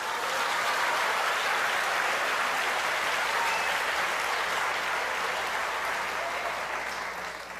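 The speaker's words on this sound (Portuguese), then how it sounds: "Pode aplaudir o Senhor" Church congregation applauding during a worship service, a dense, continuous wash of clapping that holds steady throughout and thins slightly at the end, no voices on top.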